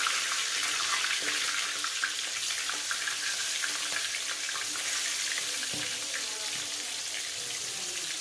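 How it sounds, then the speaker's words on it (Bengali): Thin potato strips frying in plenty of oil, a continuous, close, loud hissing sizzle with faint clinks, and no voices. "মানে এখন ভাজছি ঝুড়ি ঝুড়ি করে আলু ভাজা"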